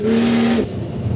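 A 450 kW Ford Falcon XR6 Turbo cruising in third gear at about 100 km/h, a loud steady engine drone with a sustained tone that drops off abruptly partway through, leaving a rougher rumble.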